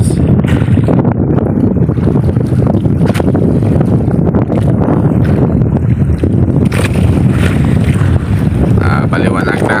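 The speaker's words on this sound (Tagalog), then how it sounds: "Ito na namang lumalakas yung hangin mga bads." Strong wind out at sea aboard a fishing boat during net fishing, a loud, unbroken roar buffeting the microphone with gusty rumbles for about ten seconds and no clear talk.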